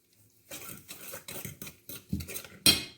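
Sugar being stirred into a batter for pumpkin cakes, with a spoon scraping and clinking against the bowl in uneven strokes, close and fairly quiet.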